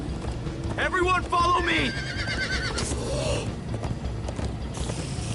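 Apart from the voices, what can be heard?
horses galloping in Minecraft video game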